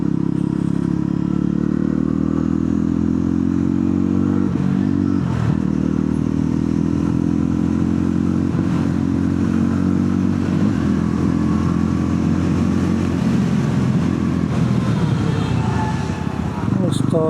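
A Yezdi Roadster motorcycle engine drones steadily up close while riding after its first service, with rattling and shifting pitch, and a voice speaks intermittently over the noise.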